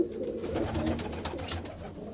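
Pigeons cooing softly on a farm in a short burst of low, throaty calls, close by, with faint background clatter.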